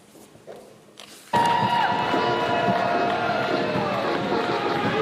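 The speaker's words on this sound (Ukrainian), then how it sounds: "Присутні під час параду глядачі зустріли їх оплесками." Spectators cheer and applaud at a London parade marking the 80th anniversary of the end of World War II in Europe as troops march past. The crowd noise bursts in suddenly and stays loud, with voices mixed in.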